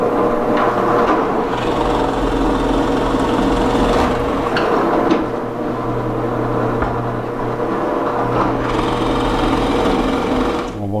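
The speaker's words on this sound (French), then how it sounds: "on va être en mesure de faire le trou, là, aller jusqu'au fond" A power drill boring a large-diameter hole with a bit, running steadily and loudly throughout with a constant whine that holds at the same pitch, close by, with no voices.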